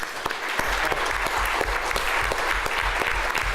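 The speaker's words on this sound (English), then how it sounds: "Can you guys get them big round of applause for everyone" Sustained audience applause at the Embedded Vision Summit Vision Tank competition, a crowd clapping steadily and densely for the finalists for several seconds, with no speech over it.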